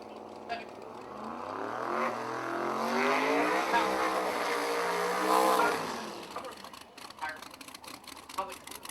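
A 1970 Hemi Cuda drag car launches at a drag racing event, its engine rising to a loud roar that swells and fades, while a track announcer talks over it.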